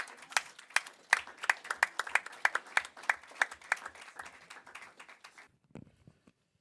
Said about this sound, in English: thank you for all the applaud